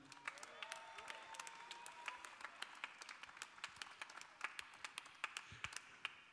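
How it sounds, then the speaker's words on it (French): Audience applause at a cabaret festival finale, a faint, scattered patter of individual claps heard from a distance, with sharper claps picking up toward the end. "une main d'applaudissement"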